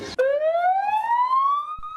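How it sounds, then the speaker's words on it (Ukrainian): A camp alarm siren: a single tone sweeps slowly upward in pitch, loud and sustained, starting after a brief thump. "Тривожний сигнал сирени виманює дітлахів із будиночків табору."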